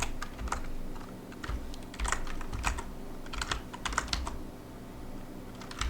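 Computer keyboard typing while writing React code, heard as scattered clicky keystrokes in irregular bursts over a steady, noisy room hum, with no talking.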